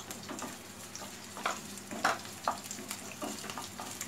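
Finely chopped garlic fries in a pan for a chilli paneer dish, a soft steady sizzle with occasional scraping stirs, fairly quiet and close, with no voices.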